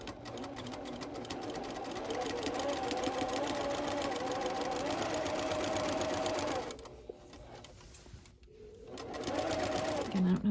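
A home sewing machine runs steadily, stitching a contrast strip on a pillowcase, a continuous close mechanical whir that cuts out briefly for about two seconds, then resumes.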